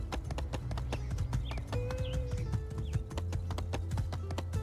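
Steady, rapid clip-clop of horse hooves in the video game My Time at Sandrock, with a faint whinny-like tone, continuous and close, with a synthetic game-like quality.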